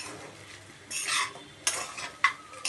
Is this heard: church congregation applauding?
no